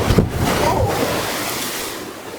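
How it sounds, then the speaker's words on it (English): Rough surf and wind in a gnarly Indonesian channel where a strong current runs against the wind, raising steep square waves; a broad, steady roar of water and wind buffeting fills the clip, with a few heavier sloshes near the start. "We got this massive current coming down against the wind, and we got these square waves."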